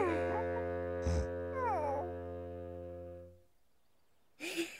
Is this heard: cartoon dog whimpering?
yes